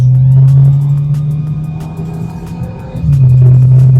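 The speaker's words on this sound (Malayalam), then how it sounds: "ആ ഗിയർ ഷിഫ്റ്റ് എന്ന 7 സ്പീഡ് DSG ഗംഭീര ഷിഫ്റ്റാണ്." A 4th-gen Skoda Octavia RS with a 265 bhp 2.0-litre TSI engine and 7-speed DSG holds a loud, steady droning rumble, briefly dips near the three-second mark as the gearbox shifts, then pulls strongly again; no one speaks.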